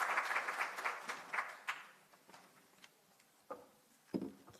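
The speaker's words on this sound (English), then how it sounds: "Can we just give a round of applause?" Applause from an academic symposium audience starts fairly strong, then thins out into a few scattered claps that trail away, with quiet gaps and a couple of late isolated claps near the end.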